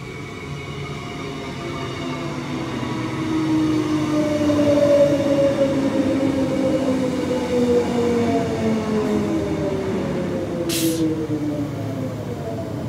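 A train rolls into a Brisbane station platform with a steady rumble that swells as it arrives and long descending squeal tones from the wheels and brakes. It is close and loud with no talk.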